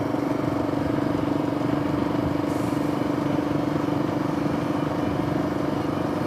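A steady motorcycle engine drone with rumbling and rattle, constant and fairly loud throughout, as the motorcycle passes close by.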